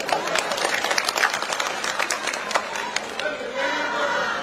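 Audience at a political rally in Jaisinghpur, Kangra, clapping in a brief scattered burst of applause with crowd murmur, moderately distant and fading into background chatter.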